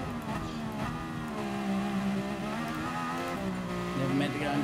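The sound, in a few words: race car engine from a video game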